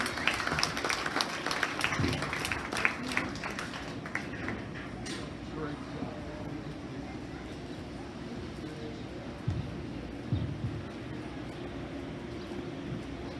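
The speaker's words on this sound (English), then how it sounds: "let's give her a big round of applause as we congratulate her on a win" Spectators at the 2020 Logan County Fair beef show applaud a winner, with a crisp burst of clapping for the first few seconds that then fades into a softer background while a voice talks.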